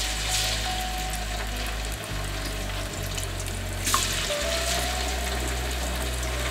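Chicken wings dropped into hot oil for frying, a steady loud sizzling hiss over a low humming drone, with a brief spatter near the middle and no talk.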